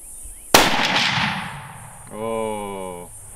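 A single sharp gunshot from a hunting rifle on an African buffalo hunt, loud and close, with a long rolling echo, followed later by a brief tonal call or voice.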